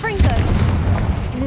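In Hogwarts Legacy, the Confringo fire spell goes off with a deep, rumbling boom that rolls through the whole moment, while a character's voice carries over the blast.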